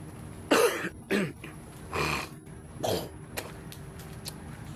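Several separate coughs come from a person walking outdoors in Tacloban, four rough bursts spaced roughly a second apart, fairly close and with no talk.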